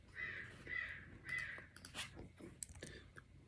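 Several crows cawing in a loose series of harsh calls, moderately distant, with faint outdoor background noise.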